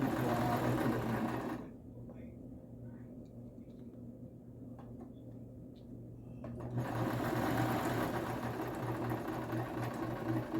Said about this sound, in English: Back stitching at the end.